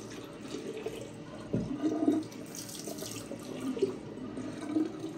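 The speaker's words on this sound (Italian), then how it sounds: "a sciacquarci un attimo le mani perché sono scivolose" Tap water runs steadily from a faucet as hands are rinsed at a sink during a shave, a soft continuous stream with a couple of brief splashier surges.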